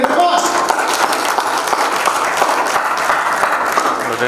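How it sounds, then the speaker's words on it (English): Audience applause at an awards ceremony with a celebrity chief guest, a loud sustained wash of clapping from a large crowd that continues steadily throughout. "Everybody, please put your hands together and applause."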